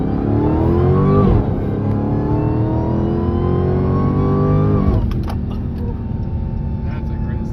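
A supercharged Dodge V8 engine revs hard through rising gears with a high supercharger whine riding on top, loud and close, with brief voices underneath.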